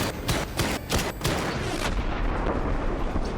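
Cobra tanks fire in Batman: Arkham Knight, sending out a rapid series of heavy booming shots, five or six close blasts within two seconds, followed by rumbling explosion noise that lingers at steady loudness.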